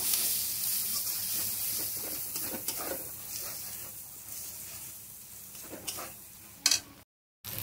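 Spice paste with garam masala sautéed in a pan for a yogurt jackfruit curry, a soft sizzle under intermittent stirring scrapes and clinks, fairly quiet, with a louder knock near the end before a brief dropout.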